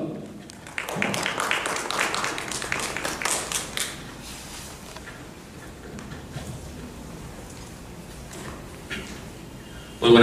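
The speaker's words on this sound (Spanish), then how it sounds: "recibámoslo con fuertes y calurosos aplausos" An audience at a tax law lecture bursts into applause, moderately loud for a few seconds and then tapering into scattered claps and room murmur.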